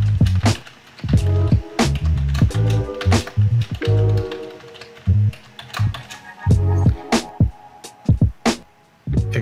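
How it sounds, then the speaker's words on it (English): Keys clatter on a computer keyboard in quick bursts, loud and close, with short pauses between runs of typing and no voices. "Type in your password."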